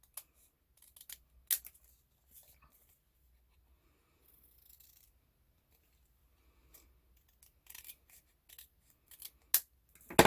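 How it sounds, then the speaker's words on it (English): Scissors trim paper to match a snow globe base, giving sparse, crisp snips close by, scattered across quiet stretches and growing busier toward the end. "I'm going to trim this so it's the same shape as my snow globe base."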